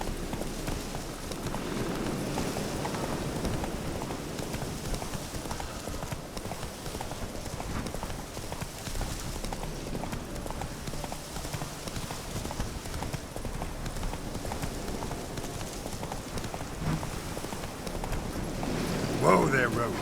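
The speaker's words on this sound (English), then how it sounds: "Whoa there, Roach." Rapid rhythmic hoofbeats of a galloping horse in the Witcher 3 video game, steady and close for the whole stretch, with a voice speaking briefly over the clatter.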